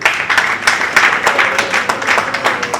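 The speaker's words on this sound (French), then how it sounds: "On applaudit." Audience clapping at a Congolese political ceremony awarding a merit diploma: dense, steady rhythmic applause from a crowd, moderately loud and continuous, with no speech over it.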